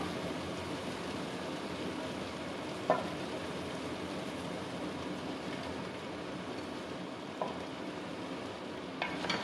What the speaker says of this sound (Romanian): Amestecăm.